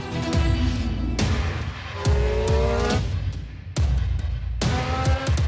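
Red Bull Formula 1 car at the Red Bull Ring, a loud close engine wail climbing through repeated upshifts, each rising whine cut by a sharp gear change, with no talk.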